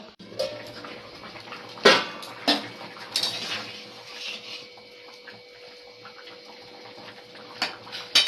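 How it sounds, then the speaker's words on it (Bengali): A metal lid clatters onto a pot of shukto vegetables set to boil in water, giving a few sharp clinks and knocks among quieter kitchen handling sounds. "এবারে আমি এটা ঢাকা দেবো সেদ্ধ হওয়ার জন্য"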